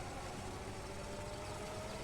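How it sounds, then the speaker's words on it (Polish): A lawn mower's small engine idles steadily on its first start of the season as it warms up, a continuous, even drone with no talk over it. "Pierwsze odpalenie kosiarki. Dobra, 30 w obroty. Dajmy trochę gazu."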